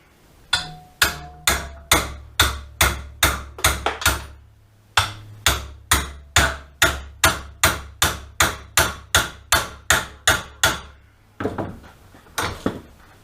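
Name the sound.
hammering a thick metal bar to bend it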